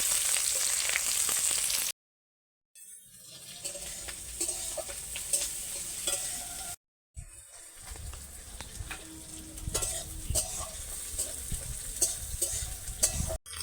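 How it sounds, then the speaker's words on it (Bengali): Chopped onion with whole cumin seeds and bay leaf frying in hot oil in a pan, a loud steady sizzle with stirring scrapes, broken by two brief silent gaps. "গোটা জিরে ফোড়ন দিয়ে দিলাম, তেজপাতা দিয়ে দিলাম, কুচনো পেঁয়াজ দিয়ে দিলাম"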